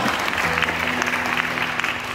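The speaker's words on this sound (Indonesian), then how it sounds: "Tepuk tangan untuk Tuhan." Church congregation applauding for God, a steady dense wash of clapping held at even loudness throughout, with a sustained musical tone underneath.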